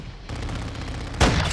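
Automatic gunfire in Modern Warfare 2 multiplayer, a rapid rattle of shots followed by a louder heavy blast near the end, close and dense.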